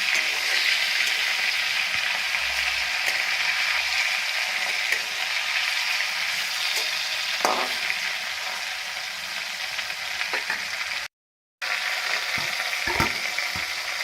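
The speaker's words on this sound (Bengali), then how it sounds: "মাছগুলো একটু হালকা করে ভেজে নেবো, খুব কিন্তু ডিপ ফ্রাই করছি না।" Shol fish shallow frying in a pan, a dense continuous close sizzle with occasional light utensil taps and one brief cut-out near the end, no talking.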